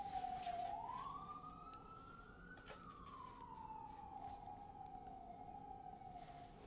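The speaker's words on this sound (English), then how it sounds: "it's New York. There's a siren every 10 seconds." A distant siren wails in New York City, its pitch rising and then slowly falling, over a steady hum of city traffic.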